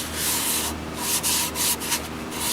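Yorkshire grit being rubbed onto a spinning mahogany piece on a woodturning lathe: a close, loud, gritty rubbing hiss that pulses with brief dips as the abrasive presses and lifts.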